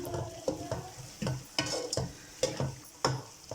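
Cauliflower and carrots being stir-fried in a pan: a spoon scrapes and tosses the vegetables in repeated strokes about twice a second, over a light sizzle.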